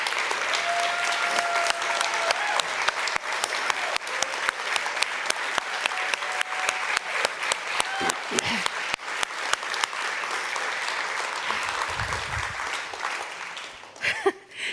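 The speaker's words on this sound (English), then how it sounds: "stand up so we can applaud you" Steady applause from a church congregation during a Sunday celebration service, many hands clapping evenly for about fourteen seconds before thinning out, with faint voices underneath.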